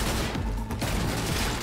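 Dense, continuous gunfire and explosions in the video game Cyberpunk 2077, with shotgun blasts blended into a loud, chaotic barrage with no pauses.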